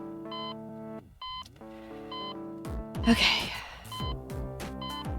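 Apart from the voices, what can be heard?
beeping in the background in the video game Hacknet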